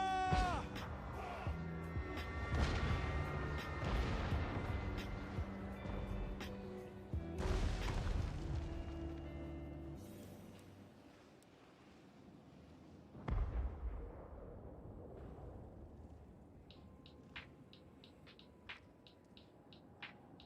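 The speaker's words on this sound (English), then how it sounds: "Great cannon!" Great cannon and artillery fire in a Total War: Warhammer 2 battle, heavy booming blasts around two, seven and thirteen seconds over a dense rumbling din, with faint voice lines and unit chatter fading in the quieter tail.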